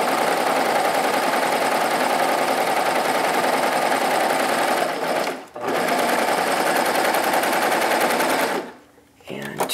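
A sewing machine runs steadily while stitching stretch knit fabric, a loud continuous whirring buzz that breaks briefly around the middle and again near the end before the fabric is done.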